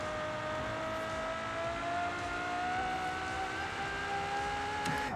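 A Ferrari in Forza Horizon 4 drives along a beach, its engine holding a steady, smooth whine that climbs gradually in pitch as it accelerates, continuous and fairly loud with no talk over it.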